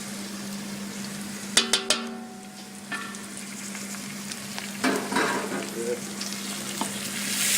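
Garlic, ginger and chili hit a pan of browning onions for chicken curry, setting off a steady sizzle with a few sharp clinks and stirring scrapes; a voice speaks briefly.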